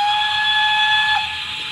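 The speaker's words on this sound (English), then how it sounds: "Then F3, I've shown you the whistle before, but we'll do it again." A model GWR Manor steam locomotive's whistle sound effect, a clear sustained tonal shriek over steam hiss that holds for about a second before cutting off, leaving soft hiss.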